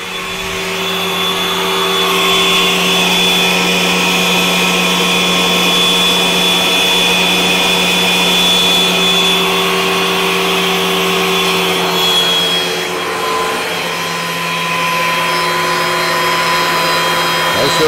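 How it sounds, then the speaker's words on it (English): A Forstner bit bores steadily through a workpiece, a continuous loud droning whine with strong steady tones that holds for the whole stretch, dipping slightly near the end. "The points of where the Forstner bit has come through"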